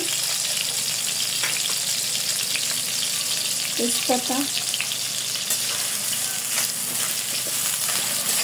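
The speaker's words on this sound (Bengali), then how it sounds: "আমার পেঁয়াজটা মোটামুটি ভাজা হয়ে গেছে" Chopped onions sizzle steadily in a pan with whole garam masala spices (cardamom, cinnamon, cloves, bay leaf) for duck curry, with a brief stir scrape midway and a single spoken word.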